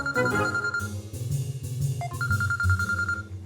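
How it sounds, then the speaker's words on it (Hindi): A phone rings with an incoming call, a repeating electronic ringtone of steady tones heard over background music in a TV telefilm scene. "कॉल आ रही, रुक जाओ।"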